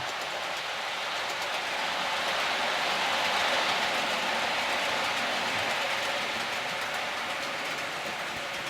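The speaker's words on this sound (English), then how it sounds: "these 66s are not a particularly fast loco." A model railway Class 66 locomotive runs steadily along the track, producing a continuous soft rolling hiss and faint clatter at moderate distance, with no voices.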